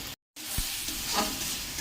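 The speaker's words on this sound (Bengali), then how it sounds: "এবার এটা অনেকক্ষণ ধরে নাড়বো।" Goat meat with chilli, turmeric and cumin frying in a pan, a steady close sizzle with scraping stir strokes, broken once by a brief dropout.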